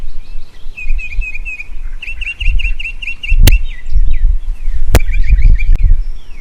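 Birds chirp and tweet outdoors in repeated bright, quick phrases over low rumbling background noise, with two sharp clicks partway through.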